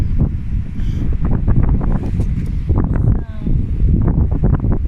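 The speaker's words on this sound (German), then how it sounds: "es ist ziemlich windig und regnerisch" Strong gusts of wind on a rainy winter day on the Portuguese coast buffet the microphone with loud, low rumbling bursts, while a person talks nearby.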